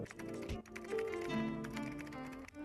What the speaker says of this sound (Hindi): एक साउंड इफेक्ट है, उसका नाम है कीबोर्ड टाइपिंग साउंड इफेक्ट।